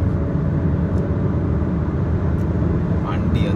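A Volkswagen Passat TDI diesel automatic accelerates in sport mode, its engine a loud, steady low drone that holds without letup for the whole stretch.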